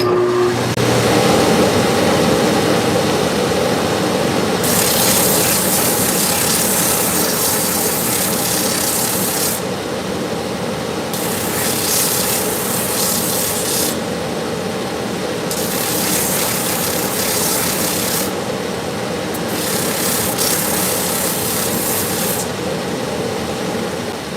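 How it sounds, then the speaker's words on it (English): A grinder takes down the soles of a pair of ostrich Tecovas boots during a repair, with loud harsh abrasive bursts coming in several separate passes over a constant motor whine, and no one talking. "these soles. I need to grind them down."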